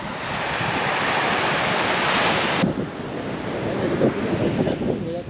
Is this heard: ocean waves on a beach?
yes